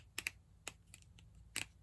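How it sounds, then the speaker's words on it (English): A Jazwares Fortnite Legendary Series Jonesy action figure's ball joint clicks into place in a few sharp, close ticks, with a quick double click, a single click and a final pair, alone in a quiet room. "Some clicking to it to lock it into place."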